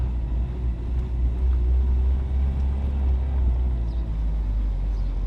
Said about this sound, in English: We're just going to do a couple rips up the street, nothing crazy.